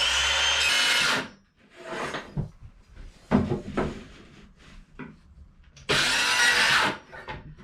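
Power tool cutting half-inch marine plywood for a hanging locker on a wooden boat, two loud bursts of whirring with knocks and handling clatter between them, up close.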